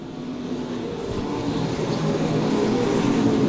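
Stock cars racing in a feature event at Lakeside track: a steady, rising roar of several engines that builds and swells over a few seconds, fairly loud and continuous, with no voices.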